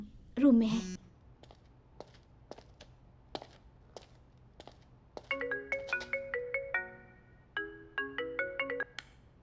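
A phone ringtone plays a bright melodic electronic chime in repeated bursts, fairly close in a quiet room, preceded by a short voice and scattered light clicks.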